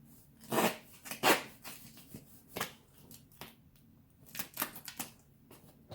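Duct tape pulled off the roll and pressed onto a torn couch in several short, sticky ripping bursts and rasps, close and moderately loud, separated by quieter handling noises.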